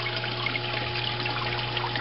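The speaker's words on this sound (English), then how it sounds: "The water will then run over from the trash can into the tote." Water trickles steadily over a trash-can overflow into a tote in a recirculating tank setup for a miller table, a constant close splashing flow with a low hum underneath.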